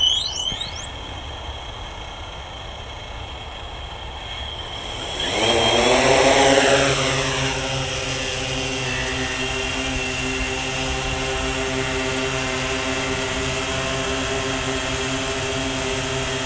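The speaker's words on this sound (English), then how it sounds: "you can see clearly we have a very stable multi-rotor aircraft right now" A multi-rotor drone hovers at eye level outdoors, its steady whine of stacked rotor harmonics swelling as it lifts off, then holding a loud, even, continuous buzz close by.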